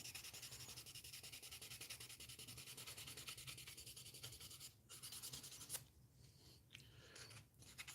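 Steady abrasive rubbing of sandpaper on plastic parts of a 1/60 NeoGrade Sazabi model kit during cleanup of sanding scratches, continuous and close, with a brief pause near the end.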